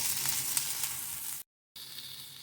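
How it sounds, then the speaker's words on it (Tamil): Green chilli, ginger, garlic, coriander and mint sauté in a pan for green Hyderabadi country chicken biryani, giving a steady close hiss and sizzle that briefly cuts to silence before resuming. "பச்சை மிளகா, இஞ்சி, பூண்டு வதங்கிட்டுருக்கு. இப்போ இது கூடயே கொத்தமல்லியும் புதினாவும் ஓரளவு ஆட் பண்ணி வதக்கிக்கிறேன்."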